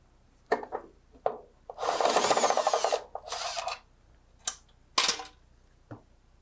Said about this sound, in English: remove the motor, gearbox, and the controller from the operator